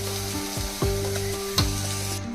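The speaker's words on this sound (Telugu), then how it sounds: "ఇప్పుడైతే మనం క్లీన్ చేసి పెట్టుకున్న ఈ కొవ్వు ముక్కలు కూడా వేసేసుకుందాం." Pieces of goat fat sizzle loudly in a pan of spiced boti curry, a dense close frying hiss broken by a few sharp scraping stirs of a utensil.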